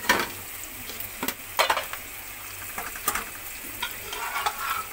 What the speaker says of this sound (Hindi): अब इनको 2 मिनट फ्राई कर लूं मैं